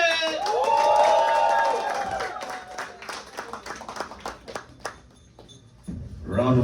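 A comedy club audience greets a comedian's entrance with a loud swell of cheering, then dense clapping that thins out and fades, while a voice speaks over the start and end.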